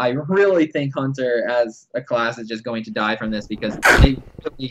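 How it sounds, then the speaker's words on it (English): Someone talks steadily, then a single loud, sharp sneeze bursts out near the end, close and abrupt, cutting briefly through the conversation. "Did you sneeze?"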